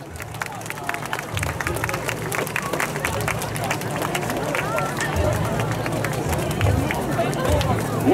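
Large outdoor crowd at the Niihama Taiko Festival at Hachiman Shrine, with scattered clapping mixed into a continuous crowd hubbub and murmuring voices, steady and fairly distant.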